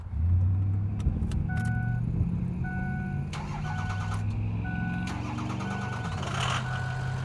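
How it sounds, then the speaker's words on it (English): A 2006 Ford F-250 three-quarter-ton four-wheel-drive diesel pickup cranks over and settles into a loud, steady low rumble close by, with faint short tones and clanks on top and no talking. "You like to hear that diesel?"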